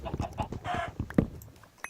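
Chickens clucking in the Minecraft video game, a series of short, close clucks and squawks in an uneven rhythm, with one sharp louder cluck near the middle and no talk over them.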